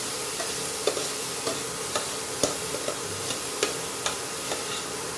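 Tomatoes going into a dry, oil-free pan for Goan milkfish hooman curry give a steady, moderately loud sizzle with a light clack of utensil taps every second or so.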